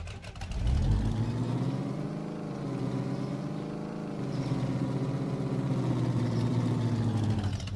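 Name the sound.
car engine driving in Supermarket Simulator video game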